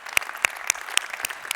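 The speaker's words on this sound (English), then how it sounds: "So I would like to give Joyce just a really big round of applause" Hands clap in applause for Joyce at the Intertraffic Amsterdam 2022 opening, a short run of sharp, evenly spaced claps that sound close and fairly sparse rather than a full crowd.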